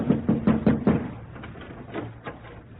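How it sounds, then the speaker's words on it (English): A riding crop raps on a French window pane in a radio drama: five quick, sharp taps close by, followed after a pause by two softer knocks. "He looks about him, then raises his crop and raps on the pane."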